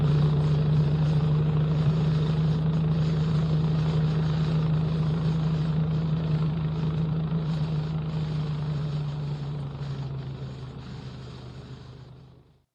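A vehicle drives steadily across a frozen lake on a midwinter pike-fishing trip, its engine a loud continuous low drone with road rumble that holds for most of the stretch, then fades away at the end.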